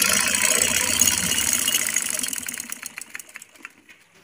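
A sewing machine stitches stretched elastic in rapid, close, whirring bursts that slow and thin out into separate clicks as it comes to a stop.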